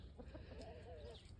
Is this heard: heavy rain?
no